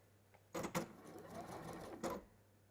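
A sewing machine runs close by, stitching fabric round in a circle. It whirs steadily for about a second and a half between short louder bursts at the start and end, with no talk.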